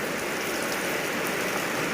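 Steady, dense rain falls continuously with an even hiss, nearby and fairly loud, with no voices.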